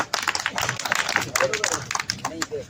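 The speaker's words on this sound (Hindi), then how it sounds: "हाँ तालियां बजाओ भाई" At an outdoor BJP campaign gathering, a small crowd claps briefly in uneven bursts, mixed with talk and movement nearby.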